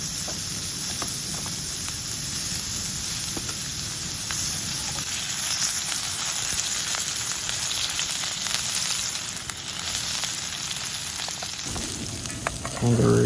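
A kangaroo steak fries in garlic-infused oil at a hilltop camp, a loud, steady close sizzle and crackle running throughout, with a brief change in texture near the end.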